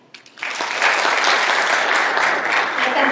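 An audience applauds to cast a vote during an academic talk, the clapping starting abruptly after a few isolated claps and swelling into dense, sustained applause close and loud.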